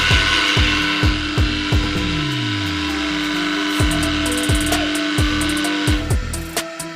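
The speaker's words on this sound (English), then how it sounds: "This is the switch for the feeder. Open the switch. Here you can adjust the frequency of the vibration." Vibratory feeder on an automatic-feed bolt riveting machine, a constant buzzing hum with a high hiss, broken by repeated rhythmic mechanical thumps and a brief descending whine, close and loud with no talk.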